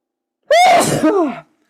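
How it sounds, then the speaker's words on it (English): A single loud, close sneeze with a sharp breathy onset and a trailing voiced release, standing alone in an otherwise silent moment. "oh, I'm going to sneeze"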